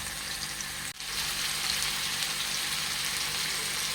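Al faham chicken frying on a stove over low heat, a steady, close, even sizzle with a brief dip just before the one-second mark and no voices.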